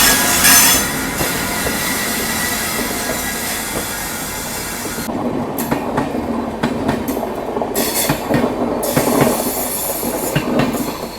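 A Madan Mahal–Rani Kamlapati Jan Shatabdi Express passes close by on the adjacent track, its loud rumble and wheel clatter filling the clip alongside the steady hiss of the moving train.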